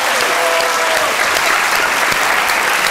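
Dense, loud audience applause fills the space without a break, a steady roar of many hands with a brief raised voice near the start.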